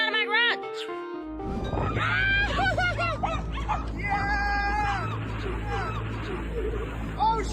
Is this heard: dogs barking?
yes